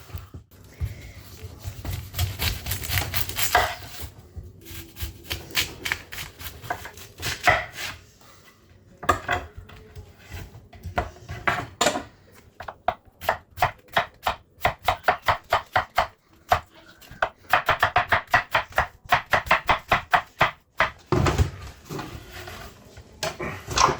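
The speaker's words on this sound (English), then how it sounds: "We're going to chop up this pork into little chunks" Pork being chopped into small chunks on a board for pozole, a long run of close, sharp knife strikes in quick irregular bursts with brief pauses, loud and without speech.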